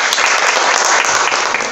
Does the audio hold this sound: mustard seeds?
no